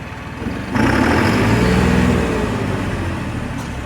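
A New Holland 5620 CRDI tractor engine revs up sharply from a low idle, holding a loud, rough roar for about a second before easing back to a steady running drone.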